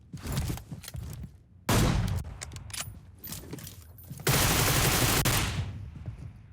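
Bursts of automatic gunfire in PUBG Mobile, rapid spraying volleys in several long strings separated by short gaps and mechanical clicks, loud and close.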